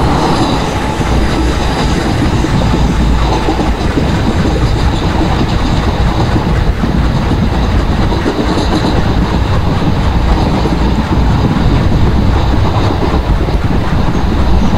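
An Indian express train heading toward Bhusaval station in the Open Rails simulator, a loud continuous rumble of wheels on track with rhythmic clatter and faint squeal, steady throughout with no talk.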